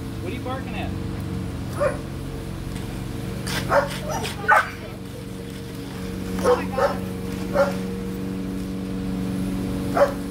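A dog barks and yips in short, irregular bursts, several sharp barks spread over the stretch, with a low hum and some voices underneath.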